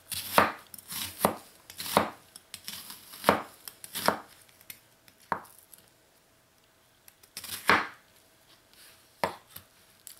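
An Eqard Damascus kitchen knife chops on a cutting board in a series of sharp, close strikes, spaced irregularly with brief pauses between groups, with no talking.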